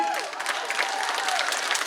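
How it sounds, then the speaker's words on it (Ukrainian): A crowd claps steadily at a holiday concert at a summer camp, dense applause throughout while a voice rises briefly over it near the start. "ви голосно аплодуйте"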